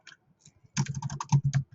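Fingers tap a computer keyboard in a quick burst of light, close clicks after a few scattered isolated keystrokes, with no talking.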